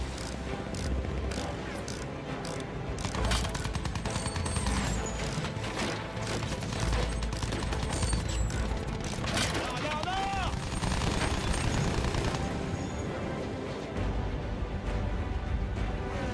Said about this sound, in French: L'ennemi tire.